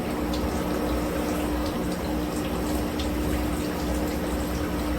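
A running shower sprays steadily in a bathroom, a loud continuous hiss of falling water close to the microphone with no voices.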